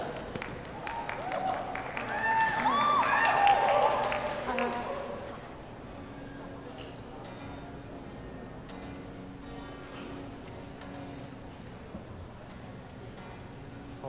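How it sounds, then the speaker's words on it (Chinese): An audience at a university club welcome show applauds a guitar club onto the stage, a burst of clapping that swells for a few seconds and then fades. People talk throughout, and a voice continues over the quieter room afterward. "就让我们掌声欢迎逢甲情韵吉他社"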